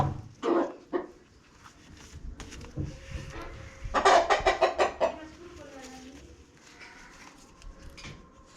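A rooster clucks in short bursts near the start and again in a quick rapid series around the middle, close and fairly loud against a quiet outdoor background.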